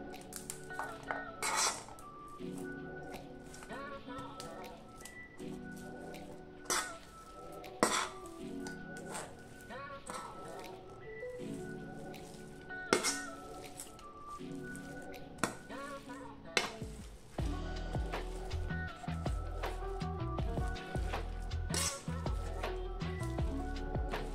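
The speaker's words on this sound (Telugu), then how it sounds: "ముందుగా మనము ఈ కూరగాయలన్నింటినీ కొద్దిగా చిదుముకోవాలి" Chopped vegetables for vegetable cutlets mashed in a vessel, with repeated sharp clinks and scrapes of a utensil against the pot, soft squishing between them, and a low hum building toward the end.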